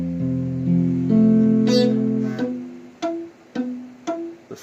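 Strummed guitar barre chord rings out, then its strings are plucked one at a time, with the last few notes coming out short, muted and buzzy instead of ringing clearly, played close with no speech.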